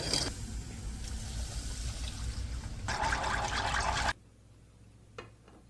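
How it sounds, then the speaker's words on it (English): Milk is poured into a butter and flour roux for mac and cheese and stirred with a plastic whisk, making a soft, wet sloshing and scraping that continues for a few seconds before stopping abruptly, leaving faint room noise. "Now we're going to slowly add in some milk. Now mix it up so it doesn't burn to the bottom."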